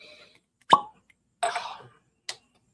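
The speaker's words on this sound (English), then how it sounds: "Nice cork pop there." A cork pops from a bottle of Irish whiskey, one sharp close pop standing alone, followed a moment later by a brief breathy sound and a small clink.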